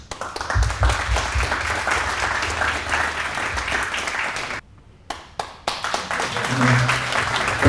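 Audience at an Orthodox family seminar in Sydney applauds at the close, loud sustained clapping that breaks off briefly, then a few scattered claps lead back into applause, with voices murmuring underneath.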